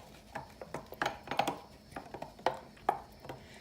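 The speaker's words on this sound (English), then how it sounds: "Stir it up." A spoon stirring turkey juice and gravy mix in a pot, irregular light clinks and scrapes against the metal, soft and close, with no talking.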